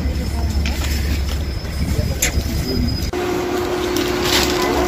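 A Moscow tram rolls along its rails with a steady, loud rumble, brief wheel squeals and rattling throughout.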